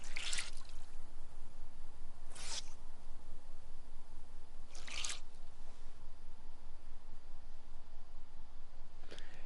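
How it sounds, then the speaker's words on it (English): Wet clothes wrung out in the survival game DayZ, heard as a few short, squishy splashes of dripping water spaced a couple of seconds apart over a steady low background, with no voices. "Wring out my clothes."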